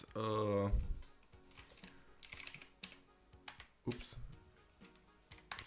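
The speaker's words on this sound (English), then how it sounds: "So let's just type in sudo" Keys on a computer keyboard are tapped in a short irregular burst after a brief voiced sound, the clicks close and fairly quiet.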